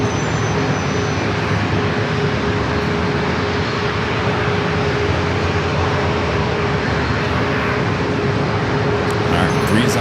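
Broad, steady jet roar of a Breeze Airways airliner from Raleigh-Durham at San Diego airport, loud and continuous with a faint whine on top.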